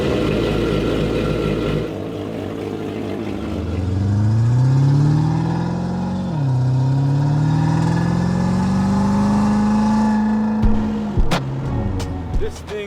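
A Mercedes C126 SEC driven hard, its engine note climbing steadily through the gears in a loud, sustained rev with a brief dip at a shift, then settling and cutting off with a few sharp knocks at the end.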